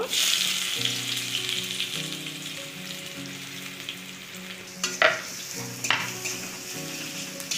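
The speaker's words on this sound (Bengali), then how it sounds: "দুটো তেজপাতা আর একটু গোটা গরম মশলা ফোড়নে দিয়ে দিলাম" Bay leaves and whole garam masala sizzle in hot oil as a Bengali chicken pulao begins, a steady bright crackle with a couple of sharper spits near the end, close and continuous, while soft tonal music plays underneath.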